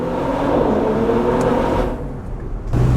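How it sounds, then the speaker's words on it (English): A 2022 Audi SQ5 accelerates with a loud, droning exhaust note heard from close by, steady and heavy, easing briefly before surging again near the end. "Just listen to that exhaust."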